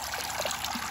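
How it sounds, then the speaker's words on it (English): Water trickles and drips steadily through a blue plastic Step2 Rain Showers Splash Pond water table toy, a close, continuous light splashing patter with no talking. "how you have the water rain down here as well onto them"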